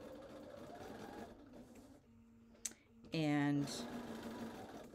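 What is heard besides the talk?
sewing machine stitching a quilt block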